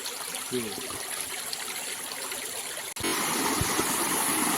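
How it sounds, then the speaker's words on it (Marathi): A forest waterfall on a mountainside pours steadily, a dense, continuous rush of water that holds at an even level, with a brief break near the three-second mark before the roar resumes slightly louder. "हा धबधबा एवढा छान आहे इथे मस्त असा एकदम पाण्याचा आवाज येतो आहे"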